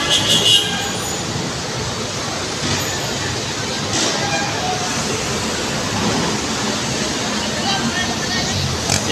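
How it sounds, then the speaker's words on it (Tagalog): A Yutong bus at a bus terminal rumbles amid a dense, continuous roar of traffic and engine noise, loud and steady throughout with faint voices in the mix. "Yutong po ang kanyang bus"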